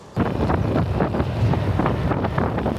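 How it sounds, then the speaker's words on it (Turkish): Steady light wind in Thailand buffeting the microphone, a continuous low rushing roar with gusty fluctuations, loud and close, with no voices. "Hafiften bir rüzgar var."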